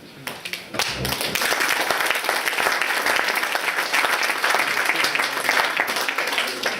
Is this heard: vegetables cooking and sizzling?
no